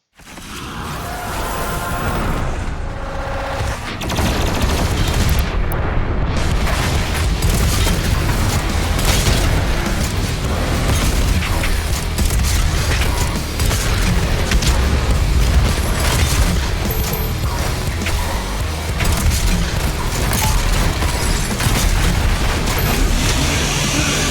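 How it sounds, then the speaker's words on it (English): Dense, relentless combat in the video game Doom Eternal: punchy gunfire and booming explosions pile on top of each other into a loud, unbroken roar of action for over twenty seconds, with whooshes and mechanical clanks mixed in. "When you shoot a gun, the sound effects really feel like the guns pack a lot of punch, explosions sound fantastic"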